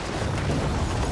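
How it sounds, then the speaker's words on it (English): In Gears of War 4, an airstrike detonates as a dense, rumbling explosive roar that fills the whole moment with heavy low-end blast noise. "Call it an airstrike."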